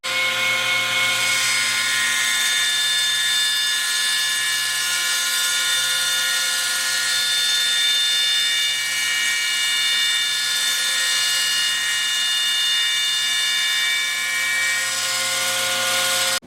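A wood table turner machine cuts a wooden piece with a steady, loud motor whine and high-pitched tonal hum that holds constant throughout, with no talking.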